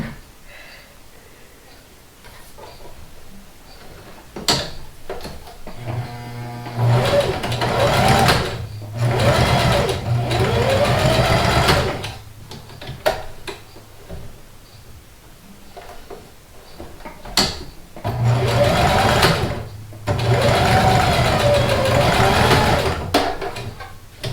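A sewing machine stitching fabric pieces for a handmade stuffed horse toy, running in several loud bursts of rapid whirring separated by pauses, with brief clicks and handling noises between runs.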